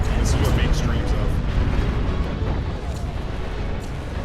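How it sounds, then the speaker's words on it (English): Nukes land one after another in a huge 50-versus-50 player RTS battle, giving a dense, loud, continuous rumble of explosions and booms with crackling bursts layered on top. "Now the nukes are landing. They're just raining."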